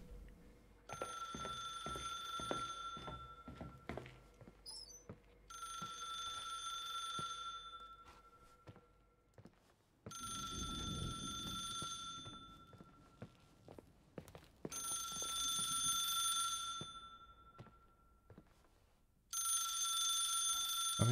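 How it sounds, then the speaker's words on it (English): A ringing landline phone in the game The Suicide of Rachel Foster trills in long repeated bursts with pauses between rings, alongside footsteps and soft thuds of movement through an indoor space. "Phone is ringing."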